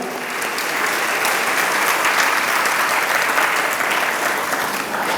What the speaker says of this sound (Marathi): आपण टाळ्या वाजू यासाठी.